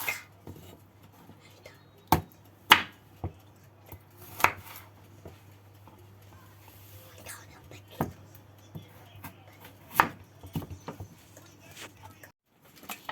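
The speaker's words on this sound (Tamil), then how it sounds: "இதே மாதிரி இந்த கரட்டையும் இப்படி நீள வாக்கில் வெட்டி எடுக்கணும்." Knife cutting carrots lengthwise on a board, sharp separate chops and taps spaced irregularly over a quiet, low hum, close by, with soft whispery sounds between strokes.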